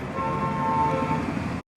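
A 2025 Honda SP125 motorcycle engine starts without a starter-motor whine and settles into a steady, smooth idle hum that cuts off abruptly.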